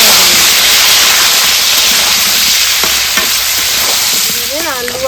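Carrots and papaya frying in oil in a pan, a steady loud sizzle with scattered stirring clatter and a few utensil scrapes near the end, no voices.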